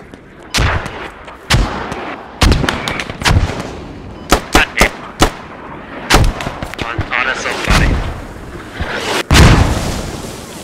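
Mortar shells landing close by during a match in the military shooter Squad: a string of sharp, booming impacts, some in quick clusters and some spaced seconds apart, with a heavy blast near the end and a rumbling tail between hits.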